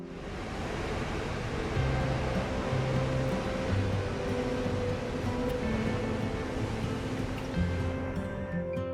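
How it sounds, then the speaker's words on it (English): Ocean surf at the Maldives island surf points, where waves reach up to eight feet, rolls as a steady, dense wash of noise with a low rumble underneath, continuous and unbroken throughout. "Watch as experienced surfers tackle waves that can reach up to 8 feet high"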